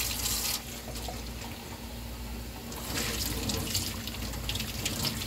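Tap water runs steadily into a kitchen sink during dishwashing, a continuous close splashing hiss that swells and eases as dishes are rinsed under the faucet.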